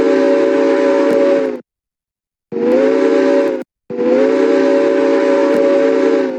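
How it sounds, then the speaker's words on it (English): Steam locomotive whistle in the Minecraft Immersive Railroading mod, three loud, sustained tonal blasts with short silent gaps between them, alone with no talk. "To blow the whistle, press H."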